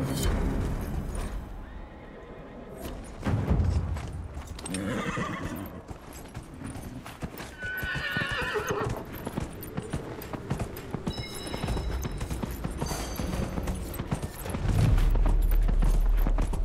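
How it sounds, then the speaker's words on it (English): Horse hooves pound in a full galloping rhythm in Dragon Age: Inquisition, with occasional whinnies and snorts, loud and near, with game effects layered over a continuous clatter. "This is full gallop."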